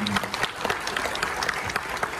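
An audience at a SeaWorld San Diego presentation claps in a dense, steady burst of applause, fairly close and even throughout.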